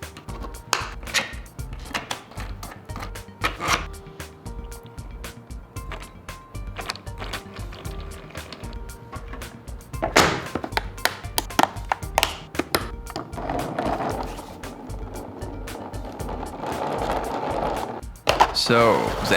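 Hands assembling a 3D-printed magnetic stirrer with two strong round magnets, a long series of close, sharp plastic taps, clicks and knocks at an irregular pace, with denser rattling handling noise in the later part.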